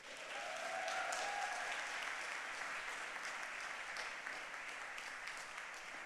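Audience applause at a women entrepreneurs' growth summit, a steady wash of many hands clapping that swells early and holds at an even, moderate level throughout.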